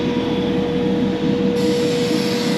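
A train at a Paris railway station gives a continuous loud rumble with a steady tonal hum, heard up close without talk.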